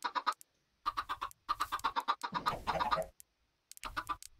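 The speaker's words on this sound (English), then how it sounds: "Are there any other chickens?" Chickens in a video game cluck in short repeated bursts, several calls in quick succession with brief pauses, close and clear with no talking.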